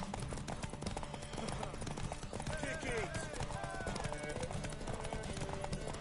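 Horse hooves clop steadily in The Witcher 3: Wild Hunt during a horse race, the rhythmic beats running throughout beneath loud shouting voices and dense crowd noise.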